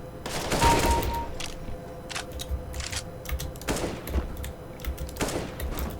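Rapid bursts of gunfire in the game CS:GO crack out in quick clusters, sharp repeated shots with short pauses between volleys, fairly close and loud.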